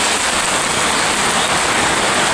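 Rain falls steadily on a village, a dense, even hiss that stays loud and unbroken throughout with no voices.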